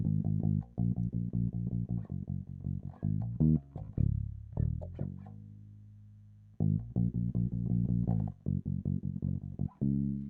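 Bass guitar plays a fill for a song, with quick plucked notes, sliding pitches and a held note in the middle, clear and alone.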